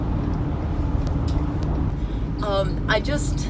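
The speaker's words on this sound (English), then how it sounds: "getting off and on the exits, merging with traffic on the highway is going really well." Ford Transit van cruising on a highway, a steady low road and engine drone throughout, with a person talking over it near the end.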